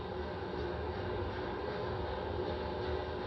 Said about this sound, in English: The 4 core stage RS-25 engines gimbaling around, testing the ability to steer the rocket into space.